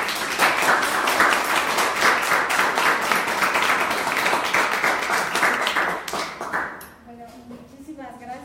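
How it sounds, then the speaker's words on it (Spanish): Applause from a lecture audience in Madrid, welcoming a speaker to a talk on wind-power companies in the Isthmus of Oaxaca. Dense, steady clapping fills about six seconds, then fades out as a voice begins over the last of it. "Un aplauso."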